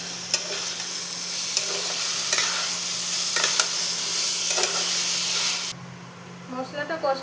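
Boiled elephant foot yam, cooked with salt and turmeric, is stirred into sizzling fried spice paste in a pan, giving a steady frying hiss with repeated scraping strokes before the sizzle drops away near the end; no one speaks.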